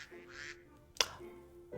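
Ducks in Minecraft giving two short, faint quacks with a sharp click between them, over a quiet background with a faint steady tone.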